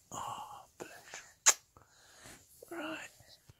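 A single sharp human sneeze bursts out at close range, set between quiet whispery breaths and soft vocal sounds from people nearby.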